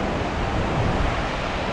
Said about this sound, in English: The waves aren't huge, but they are consistent and they're pretty clean.